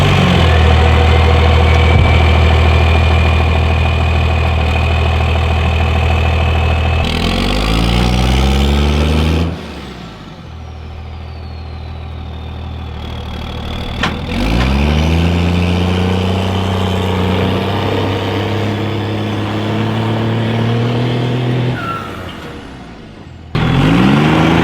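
A worn-out Cummins diesel truck engine, bump-started by clutch while being pulled with a chain, catches and runs with a steady loud idle, its pitch rising and falling through revs, with air-brake hiss and brief cutouts.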